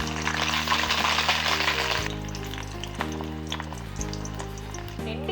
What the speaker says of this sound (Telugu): నా ఫేవరెట్ కాంబినేషన్ అయిన ఎండి చేపలు వేయించుతున్నాను